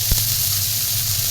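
A splash of water hits a hot pan of frying ingredients for a brinjal and rohu fish curry, setting off a loud, close, steady hissing sizzle with a brief thump at the start and no talking.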